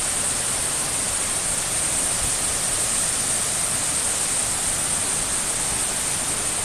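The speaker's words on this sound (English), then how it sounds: "I know the waterfall is kind of loud" Loud, steady roar of a nearby waterfall, a dense unbroken wash of falling water that fills the whole clip with no voices over it.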